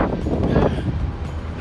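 Wind gusts roar through Newcastle city centre, buffeting the microphone as a loud, steady rumble with rustling, no talk.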